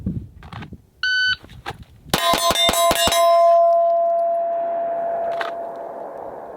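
A rapid string of sharp metallic clangs from pistol shots striking steel targets with a Mossberg MC2c, five or six quick hits in a row followed by a ringing tone that slowly fades.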